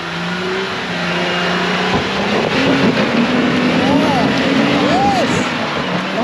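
Jeep on 35-inch tyres driving off-road in the Victorian High Country, its engine a steady loud drone with rising and falling pitch as it climbs, voices talking over it.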